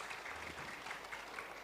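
Audience clapping at a campaign talk event featuring Anies Baswedan, a faint, steady patter of applause from a crowd heard at a distance, with no clear voices over it.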